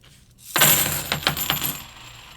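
Clad coins, not silver, poured and dropped onto a hard surface, a close, loud burst of rapid metallic clinks and rattles lasting under two seconds and tapering off, with no talking.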